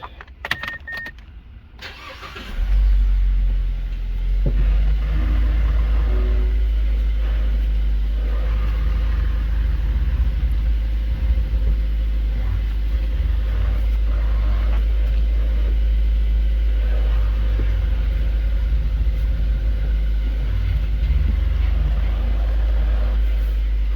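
A 2010 Mazda3 engine starting after a power steering pump replacement, a brief crank then a loud steady idle rumble continuing close by throughout.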